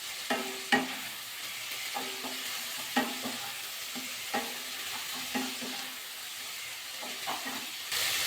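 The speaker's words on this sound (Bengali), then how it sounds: "আবার একটু নাড়াচাড়া করে দিলাম।" A spoon stirs vegetables cooking in a pan for a Bengali pui greens and seed chorchori, leaving soft recurring scrapes and knocks over a quiet steady hiss, with no voices.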